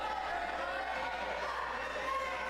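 A wrestling crowd at an independent title match roars in a steady, continuous wash of cheering and shouting, with no clear breaks.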